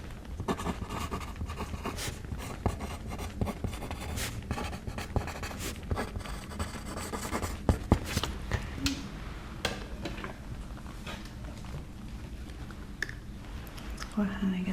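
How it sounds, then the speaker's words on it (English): A pen writes down a measurement on paper during a close-up hair styling role play, with continuous scratchy strokes and small taps that run steadily throughout. "I'm just gonna write that down."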